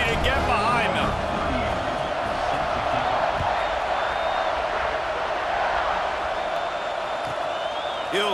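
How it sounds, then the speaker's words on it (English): A stadium crowd cheers and roars continuously ahead of a kickoff in EA Sports College Football 26, a dense sustained wall of noise with whoops rising above it, under a commentator's voice. "this crowd now ready to get behind them"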